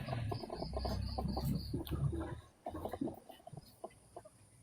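Chickens cluck and murmur close by while insects chirr steadily in the background; the clucking thins out toward the end.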